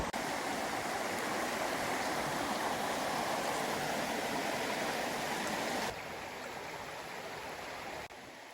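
A river in Guadeloupe flowing, a steady dense rush of water close by that drops slightly in level partway through, with no voices.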